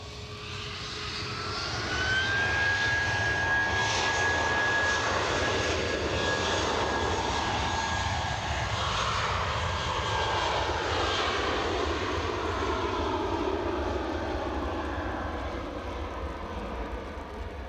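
Jet airliner taking off at Edinburgh Airport, a loud sustained engine roar with a steady whine that fills the whole stretch, broad and rumbling without any distinct spool-up.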